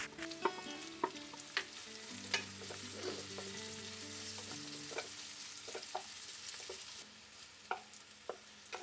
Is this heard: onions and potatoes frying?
yes